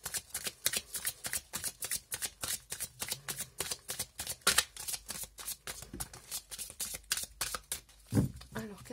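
Tarot cards being shuffled in a fast, steady riffle of crisp papery slaps, close and fairly loud, running continuously with a brief louder flurry near the end.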